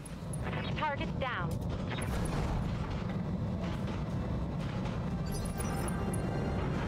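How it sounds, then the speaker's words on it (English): An explosion in Battletech with Roguetech mech combat: a deep, rumbling blast that fills the whole span with sustained heavy noise, with brief chirping effects early on and voices talking over it. "Oh, we got an explosion going on."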